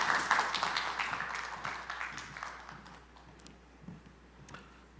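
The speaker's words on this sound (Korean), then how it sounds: "여러분 박수 부탁드립니다" An audience at a forum session on Mt. Halla claps for a curator walking onstage, a lively burst of applause that is loudest at first and thins out over several seconds.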